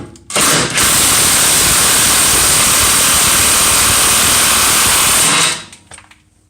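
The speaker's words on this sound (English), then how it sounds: "I am using an impact just to make my life easier" An impact wrench with a 19mm socket drives out a rear suspension bolt on a 1991 Toyota MR2, one loud continuous buzzing hammer lasting about five seconds, close up, then winding down to quiet.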